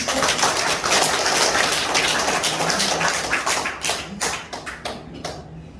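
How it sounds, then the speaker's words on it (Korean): An audience at a reunification leadership training event in Gwangju applauds a vice chairman, a dense, busy patter of many hands that stays strong for several seconds, then thins into scattered, fading claps. "박수 한번 보내주십시오"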